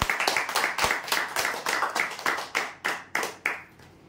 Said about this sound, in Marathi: जोरदार टाळ्या वाजवण्यासाठी।